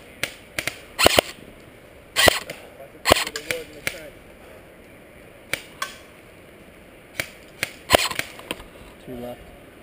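Gunfire in a Battle of Bastogne video game, with a series of sharp shots at irregular intervals, some single and some in quick pairs, loud against a quiet background.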